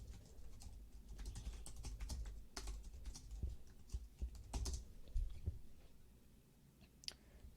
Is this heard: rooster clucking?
no